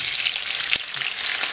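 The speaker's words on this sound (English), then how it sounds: "The onion and the garlic, sauté that a little bit." Onion and garlic sautéing in a pan for soufiko, a dense, close, continuous sizzle with a couple of faint stirring clicks and no speech.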